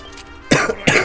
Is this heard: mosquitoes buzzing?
no